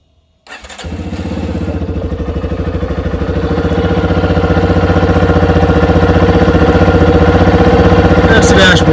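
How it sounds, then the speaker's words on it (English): Yamaha XT250 motorcycle engine cold starting: after a short silence the engine catches and settles into a loud, steady, close thumping idle that holds to the end. "here's cold starting the Yamaha"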